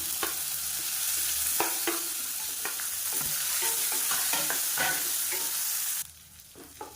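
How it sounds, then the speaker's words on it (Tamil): Long-sliced onions sizzle steadily in oil in a pan for sambar, with a bright frying hiss and repeated scrapes and clinks of stirring until the sizzle drops away. "வெங்காயம் நல்லா வதங்கிடுச்சு"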